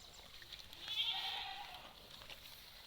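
A goat bleats once, faint and somewhat distant, while goats drink water mixed with oil-cake, jaggery and salt on a Nepali goat farm.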